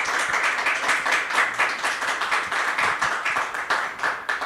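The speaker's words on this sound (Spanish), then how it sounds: "Les den un aplauso a nuestros panelistas y conferencistas de hoy." Sustained applause from a conference audience, dense steady clapping throughout with no talking over it.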